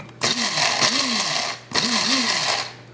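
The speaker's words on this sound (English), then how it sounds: "we will throw into our little grinder and grind up" A small kitchen grinder whirs through dried vegetables for falafel chips, two bursts of buzzing motor with pitch rising and falling, close and loud, separated by a short pause.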